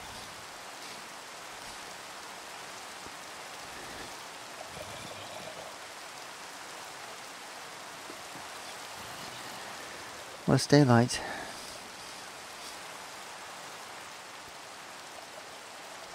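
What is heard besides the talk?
rain falling in a video game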